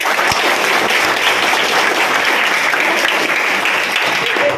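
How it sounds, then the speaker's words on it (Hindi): Loud, steady applause from an audience at a talk honouring B. R. Ambedkar, a dense crowd clapping that holds evenly for nearly five seconds with no pause. "तो एक बार जोरदार बाबा साहब के लिए एक बार तालियां बजाएं."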